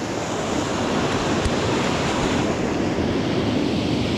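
Waterfall at Hareshaw Linn, a loud constant roar of falling water close by, broadband and unbroken, with no voices over it.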